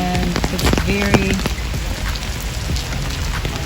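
Steady rain falls on a mountaintop, a continuous close patter on surfaces throughout, with brief tonal clicks and noises early on and no talk.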